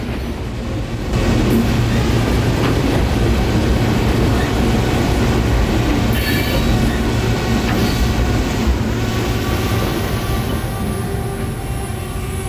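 A train rumbles past close by, a loud continuous roar of wheels and cars that stays steady throughout.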